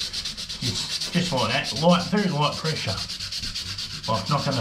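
180 grit sandpaper rubs over Soudal Light Speed wall filler patching holes, a close rhythmic rasping of back-and-forth strokes, with someone talking over part of it.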